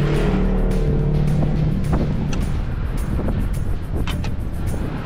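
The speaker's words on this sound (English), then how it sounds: "Driving through the sand dunes was pretty tricky and felt a bit nerve-wracking." A vehicle drives through soft sand dunes on a rough trail near Toquerville Falls, giving a steady loud engine rumble mixed with heavy wind buffeting on the microphone throughout.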